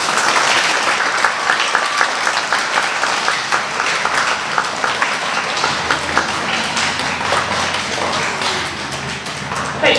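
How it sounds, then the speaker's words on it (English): A school award assembly audience claps loudly and continuously, a dense, steady applause from a full room lasting throughout. "Give them a really big clap"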